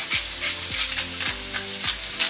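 Ground meat frying on medium-high heat, a steady close sizzle with a few regular scraping strokes as a spoon breaks it up, no talking.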